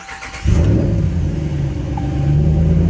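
A Dodge Ram with a 5.7 Hemi engine, diagnosed for a misfire, cranks briefly and catches, then settles into a loud, steady, rumbling idle up close.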